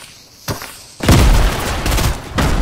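Gunfire in Fortnite, a sharp shot followed by a loud burst of rapid fire and booms that keeps going, with another volley near the end.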